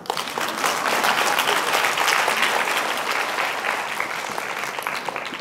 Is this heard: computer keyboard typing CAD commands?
no